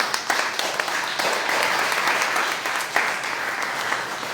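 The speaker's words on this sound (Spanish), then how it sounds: "Dale un aplauso al Rey, amén." A church congregation claps for the King during a Spanish-language teaching session, giving loud, continuous applause with crisp individual claps that rises slightly midway and sustains for over four seconds.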